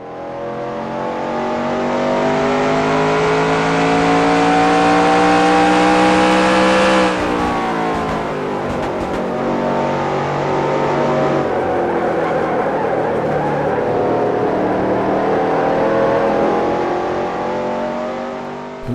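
Simulated NASCAR stock car engine in NASCAR Racing 2003 Season on PC, a loud sustained roar that rises in pitch, then drops abruptly and climbs again as the car accelerates through the gears, with no talk.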